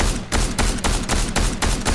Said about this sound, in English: Those are warning shots, boy.